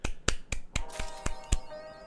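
A single person claps hands in a slow, even rhythm, seven or eight sharp, close claps spaced about a quarter second apart, with music softly sustained underneath.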